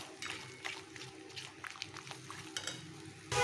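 Spices and onion roasting in a pan for aloo gobhi, with soft sizzling and repeated spatula scrapes and clinks against the pan, then a sudden louder burst of noise at the very end.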